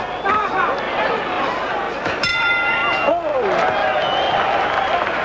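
A boxing bell rings to end the fifth round of the Julio Cesar Chavez versus Frankie Randall fight, a brief metallic ding in the middle of loud, steady arena crowd noise, with commentary over it.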